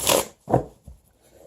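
Tarot cards are shuffled by hand in three quick riffling bursts that grow softer in turn, close up and crisp, with no voices.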